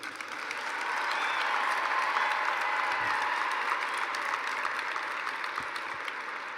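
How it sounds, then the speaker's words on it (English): At the 2019 Ironwood High School graduation, the audience gives sustained applause for the class of 2019. The clapping rises to a dense, even roar and holds there, with a few scattered thumps underneath. "Ladies and gentlemen, please applaud the class of 2019."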